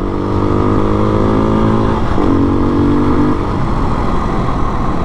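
A Beta 390RR enduro motorcycle on TUbliss tyre inserts and Michelin Enduro Medium tyres, riding a graded dirt track in formation with other bikes. The engine drones loudly and steadily, with a pitch shift partway through as the revs change.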